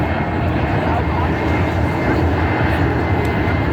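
A C-17 Globemaster III military jet transport flying a demo at an Ocean City, Maryland airshow, a loud, continuous broadband engine roar filling the air with no breaks.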